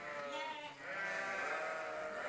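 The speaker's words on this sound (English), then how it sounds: "the sheep are guided into the shearing shed." Sheep bleat over and over as the flock is herded into a farm shearing shed, their wavering cries overlapping in a steady, fairly loud chorus.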